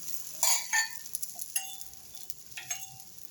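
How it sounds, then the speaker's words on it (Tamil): Moong dal and rice dosa batter sizzling on a hot griddle, faint crackling with a few brief spatters and light clinks, quiet and close, no talk. "கல்லில் தோசையாக ஊற்றிட்டேன்"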